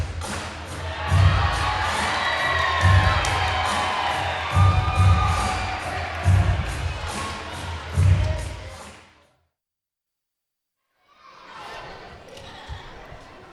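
A crowd at a Backbreaker Wrestling event cheers, with kids shouting, a loud sustained roar pierced by rhythmic stomping thuds. It cuts to silence and then returns more faintly.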